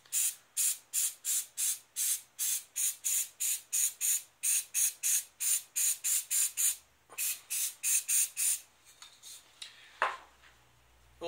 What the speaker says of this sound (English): if you spray too close, it just blows all the pigments away